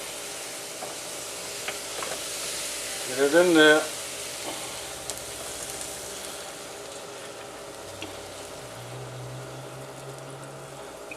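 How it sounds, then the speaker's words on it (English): Toad-in-the-hole batter sizzles in hot oil in a pan with a soft, steady crackle, and a voice briefly speaks over a louder hissing burst. "Hear that sizzle, guys? That's what you want."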